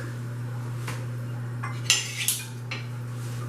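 A fork scrapes and clinks against a pan while pulling apart crispy-topped roast beef, with a few short close scrapes over a steady low kitchen hum.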